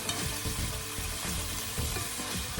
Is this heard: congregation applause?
no